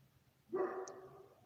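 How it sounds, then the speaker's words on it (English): A single dog bark, fairly close, with a drawn-out tail that fades over about a second against a quiet background. "the dog barking bothering you?"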